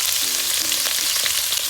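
Ginger frying in a hot pan for Mongolian beef, a loud, continuous sizzle with faint stirring and no voices.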